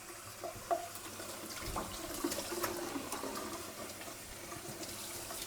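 A kitchen faucet runs a steady stream of water into a sink, a continuous moderate splash heard close by, with no talk.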